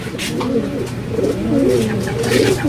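Several pigeons coo softly and continuously at close range, their low, throaty calls overlapping in a gentle burbling chorus.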